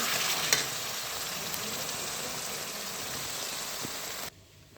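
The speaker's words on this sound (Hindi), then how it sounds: "लहसुन, मिर्च, अदरक, गोलमिर्च, जीरा का पेस्ट डाल के इसको भून रहे हैं।" Loud, continuous sizzling of garlic, chili, ginger, black pepper and cumin paste frying in a hot pan with faint stirring scrapes, cutting off abruptly near the end.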